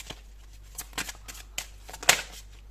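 Tarot cards are drawn and handled close up, giving a series of soft papery slides and flicks at uneven intervals. One sharper snap stands out toward the end, with no voices.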